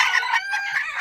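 Backyard chickens cluck and call loudly and close, a continuous run of squawky fowl noise over about a second, with no voices.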